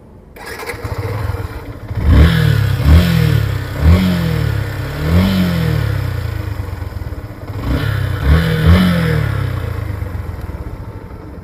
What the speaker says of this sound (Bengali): আমরা যদি বাইকটার সাউন্ডটা আপনাদেরকে একটু শোনাই।